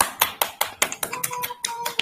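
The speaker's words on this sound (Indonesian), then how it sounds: "Tepuk tangan dong teman-teman" A few people clapping for an artist at a small gathering, sparse separate claps in an uneven rhythm, close and fairly sharp, with a faint tone in the background.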